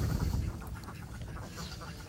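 Village ducks quack faintly in short, scattered bursts, heard at a modest distance over a low background rumble.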